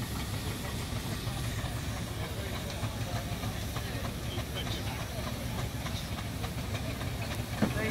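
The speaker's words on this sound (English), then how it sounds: "This is a general purpose traction engine, built as a show engine originally for the Royal Agricultural Show in Liverpool." Steam hiss from a Robey general purpose traction engine, built as a show engine, at a steam rally; a steady broad hiss continues throughout under low rumbling machinery and background crowd noise, with a brief knock near the end.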